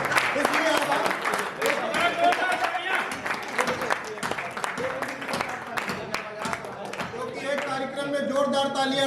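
An audience at a Hindi comedy poetry show (hasya kavi sammelan) breaks into applause. Scattered claps keep rising and falling over a murmuring crowd at moderate loudness.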